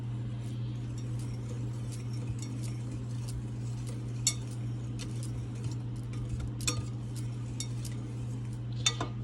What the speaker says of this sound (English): we'll whisk this some more with the other non-dominant hand